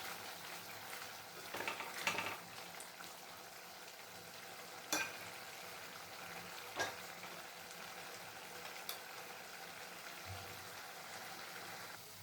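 Turkey berries sautéing in a pan make a steady, close frying sizzle throughout, with occasional louder clicks and scrapes from stirring and no voices.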